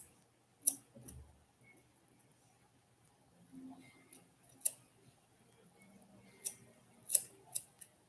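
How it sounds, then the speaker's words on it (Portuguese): Scissors snipping hair straight across during a butterfly layered haircut, several crisp separate snips spread across a quiet room, fairly close, with no talking. "Vamos cortar. Retinho."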